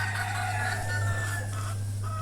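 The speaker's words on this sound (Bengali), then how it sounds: "এইখানে মোরগ আছে হলো 12টা আর মুরগি আছে হলো 38টা" Native chickens and roosters cluck busily in cages on a poultry farm, a close, continuous chorus over a steady low mechanical hum.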